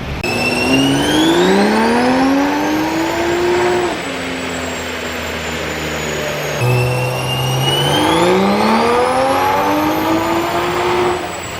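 A 2020 Toyota Supra fitted with a bigger turbo and new downpipe revs hard on a dyno baseline run, its engine note sweeping up through two loud, sustained pulls with a brief drop between them.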